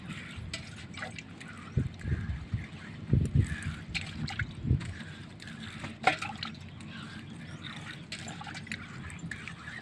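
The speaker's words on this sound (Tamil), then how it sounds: "அம்மியும் நல்லா சுத்தம் பண்ணியாச்சு" A stone grinding slab (ammi) is washed with water in a home kitchen, giving faint splashes, drips and trickles with a few soft knocks of stone, low and intermittent.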